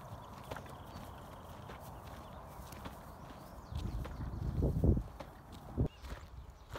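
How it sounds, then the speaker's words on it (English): Cows walking nearby at a pond, heavy hooves thudding and shuffling on the ground at an uneven pace, louder bursts of steps toward the end over quiet outdoor background. "I am facing some cows."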